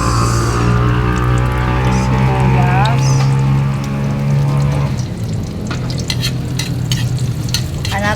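Garlic and onion sizzle loudly in a hot pan as pork is cooked, with steady frying and stirring close by and a voice talking over it.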